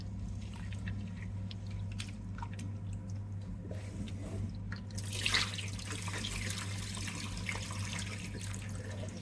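Tap water runs steadily into a sink while soaked grains for khatiya dhokla are rinsed by hand, with soft squishing and sloshing that grows louder partway through.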